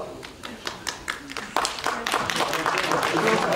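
An audience at a Turkish foundation anniversary event claps in scattered, uneven bursts that build into steadier applause, with voices heard underneath.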